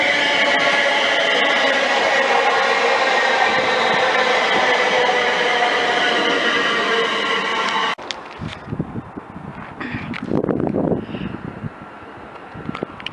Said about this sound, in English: just about to arrive into platform number 2, we have the 10:50 London Midland service from Walsall to Wolverhampton